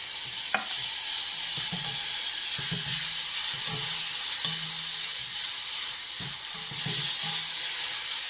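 Grated papaya for chutney dropped into a hot pan, a steady close sizzle with soft intermittent stirring scrapes, no voices.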